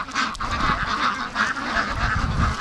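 Free-range ducks at a lake creek give a dense run of overlapping nasal quacks and honks, close and continuous over a low background rumble.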